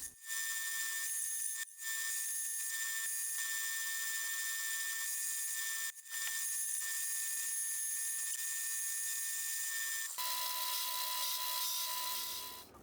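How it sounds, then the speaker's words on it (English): Steel collet chuck taking a finishing cut on a lathe with a finishing insert: a sustained high, thin cutting whine near and steady, broken by a few brief pauses and a pitch change toward the end, no voices. "I came in with the finishing insert and then took it to its final size."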